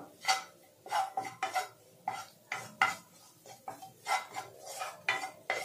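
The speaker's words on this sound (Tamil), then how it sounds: "அதையும் இந்த பட்டர்லயே போட்டு நல்லா வறுத்துக்கோங்க" A utensil scrapes and stirs maida flour as it roasts in butter in a pan, giving repeated, fairly quick metallic strokes of moderate loudness, alone without talk.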